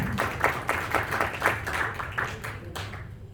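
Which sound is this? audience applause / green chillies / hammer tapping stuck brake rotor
audience applause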